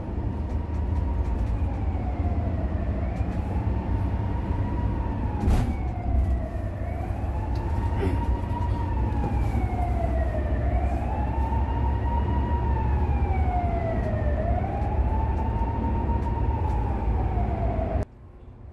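A wailing siren rises and falls steadily inside a highway vehicle tunnel, heard from aboard an express bus over a constant low road rumble, then cuts off abruptly near the end.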